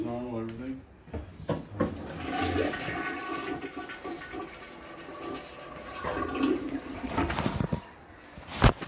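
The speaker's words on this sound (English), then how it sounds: "Toilet don't run all the time, runs normal, flush is normal, everything." A home toilet flushes with a loud gurgling rush that swells and then settles into the hiss of the tank refilling, with a voice heard briefly near the start.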